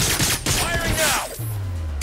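Loud gunfire in the video game Agents of Mayhem, a quick run of sharp shots with a whistling, sweeping effect, then a low steady hum as the shooting stops.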